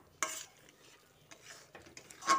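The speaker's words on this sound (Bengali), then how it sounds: "সব কিছু আরও একবার ভালো করে মিশিয়ে নিচ্ছি।" Spoon stirring a vegetarian kakrol (spiny gourd) dish in a pan after hing-soaked water is added: a few soft scraping strokes, faint and spaced apart, with no talking.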